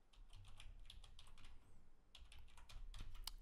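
Fingers tap out a username and password on a computer keyboard in quick, uneven bursts of close clicks with a short pause partway through, heard alone.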